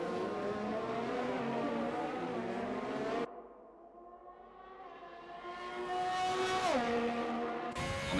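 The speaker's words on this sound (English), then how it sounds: "Amandale is putting that throttle down." Race car engines in a racing video game drone loudly and steadily with tonal whine, dip after a gear change, then climb again as the throttle goes down, harmonics rising and a sharp drop near the end.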